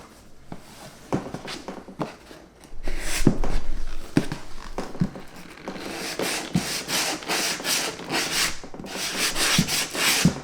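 Close, rapid scratching strokes of sandpaper on a Lucchese 2000 Roper leather boot, starting softer and building into brisk, rhythmic rubbing bursts.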